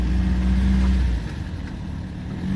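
An MG TD car's engine droning steadily while driving, a loud low hum that drops in pitch and level partway through as if shifting gear, then builds again.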